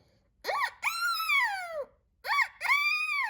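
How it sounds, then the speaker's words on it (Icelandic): A golden plover calls in the open, giving two clear, drawn-out whistles separated by a pause, each starting with a short rising note and then sliding downward, close and distinct against near silence. "Þau heyrðu líka í lóu."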